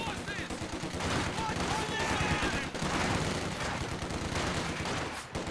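Infantry rifle fire from grenadiers in a Company of Heroes 2 online 2v2 battle crackles in dense, overlapping bursts through the whole stretch, mixed with game effects and a commentator's voice.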